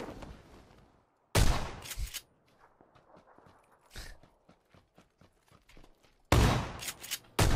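Gunfire in the video game PUBG: loud bursts of rapid shots separated by quieter stretches of sharp, evenly spaced single cracks, fairly close and without talk.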